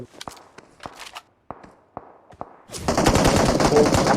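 Gunfire in PUBG Mobile: a string of sharp, separate shots or footsteps gives way to a loud, dense burst of rapid automatic fire.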